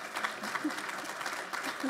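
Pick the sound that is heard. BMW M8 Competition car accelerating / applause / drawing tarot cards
applause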